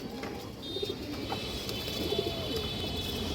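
A hen pigeon coos in short, low burbling bursts at a moderate distance over a constant background hum, with no speech.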